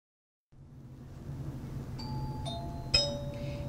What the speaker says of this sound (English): A pattern is a measure, playing it on a tone bell.